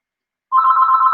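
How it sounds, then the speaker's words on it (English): A telephone bell starts ringing abruptly partway through, a steady loud continuous ring sustained to the end with no talk over it. "Oh, the phone's ringing."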